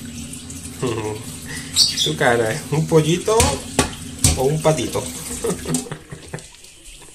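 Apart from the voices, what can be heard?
water poured from tap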